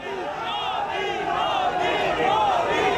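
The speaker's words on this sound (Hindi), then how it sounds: "तो आप सुन भी सकते हैं मोदी मोदी के नारे इस दौरान वाराणसी कैंट रेलवे स्टेशन पर लगने लगे" A large crowd chants "Modi Modi" in rhythmic, sustained voices at Varanasi Cantt railway station, the massed shouting loud and continuous throughout.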